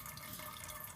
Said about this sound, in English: it pretty much always drips if there's water in the filter